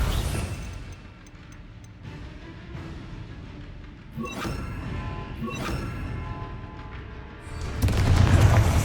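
Confringo blasting curses fired in Hogwarts Legacy, a run of booming explosions and crashes in a game battle, several sharp bursts midway and a heavier, louder rumbling blast near the end.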